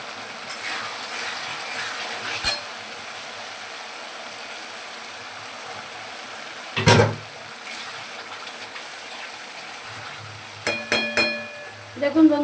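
Onion and garlic paste fries in oil for a doi rui fish curry, giving a steady soft sizzling hiss broken by a few sharp clinks and scrapes of a utensil against the pan.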